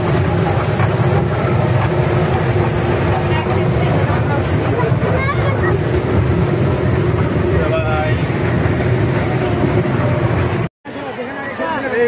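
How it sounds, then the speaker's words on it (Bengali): A small children's ride train in a park arrives with a continuous rumbling, clattering roar under a busy crowd of voices, ending abruptly. "ট্রেন আসছে মাশাআল্লাহ অনেক সুন্দর ট্রেনগুলো আসে"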